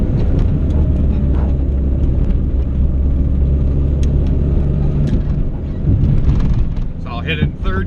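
A turbocharged Honda Civic EG with a GSR engine pulls at full throttle, a loud sustained engine roar with heavy wind and road rumble inside the car, easing off near the end.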